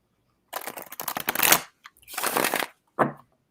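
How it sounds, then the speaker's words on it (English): Cards are shuffled up close in three bursts, two long riffling runs followed by a short final snap, with silence between them. "So, Jonathan, I hear you shuffling."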